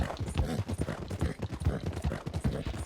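Hooves clip-clop in a steady, fairly close rhythm as a horse moves off in Red Dead Redemption 2, loud and unbroken for a few seconds.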